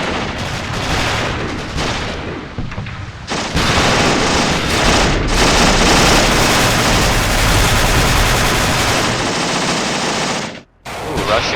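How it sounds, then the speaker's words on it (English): Russian machine gun fire in the Achtung Panzer war game at night, a dense, loud, sustained rattle of automatic bursts with booming battle noise, running almost continuously before a brief break near the end. "Russian machine gun right here. That's gonna sweep up a lot of our troops on the road here."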